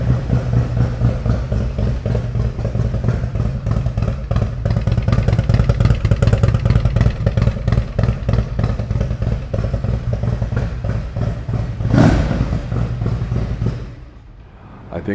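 A Harley-Davidson 95-inch motorcycle with a stage 2 upgrade and 64,000 miles runs close by, its loud lumpy idle thumping in an uneven cadence, then rising in a brief rev before dropping away near the end.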